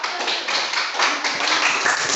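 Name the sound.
class clapping hands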